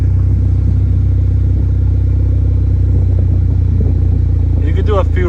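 Honda Accord engine running steadily with a deep, rumbling exhaust note, holding a constant low drone close by before a brief rise near the end; people talk over it.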